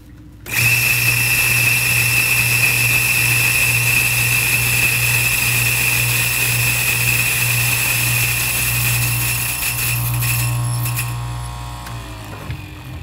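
An electric coffee grinder grinding fresh beans for drip coffee: a loud, steady high motor whine starts abruptly and runs on with a grinding rasp, then winds down near the end.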